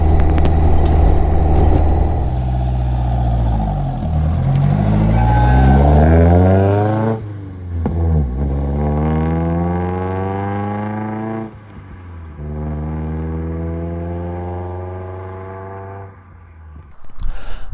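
A Lotus Elan Plus 2S Zetec Spyder restomod drives past close by, its engine loud and revving up through the gears in rising sweeps, then easing off toward the end with no talk.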